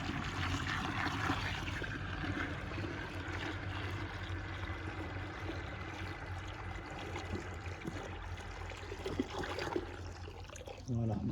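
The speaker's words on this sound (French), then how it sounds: "vous venez mettre votre eau" Water is poured into a bucket to make a summer carp spod mix of fava beans and maize, a steady, continuous gush and splash filling the whole stretch at moderate loudness.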